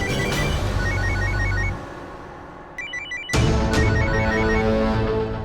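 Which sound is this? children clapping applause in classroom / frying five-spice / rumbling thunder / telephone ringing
telephone ringing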